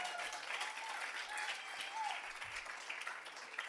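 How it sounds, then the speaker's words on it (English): Audience applause at a UCSF Grad Slam 2025 event, thanking the organizers: steady, continuous clapping from a sizeable crowd, fairly quiet and even throughout with faint voices mixed in. "So please give a big round of applause for them."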